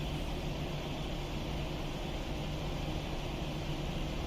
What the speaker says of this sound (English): Good ignition on engine number 1.